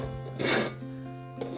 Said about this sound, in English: take the smallest file we can find and clamp the sword in the vise and file away